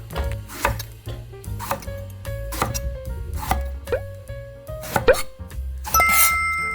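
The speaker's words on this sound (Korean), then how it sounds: "이렇게 빼딱빼딱 썰어주세요." A kitchen knife slices an eggplant diagonally on a cutting board, giving about seven crisp, evenly spaced chops close up, with faint ringing tones in between.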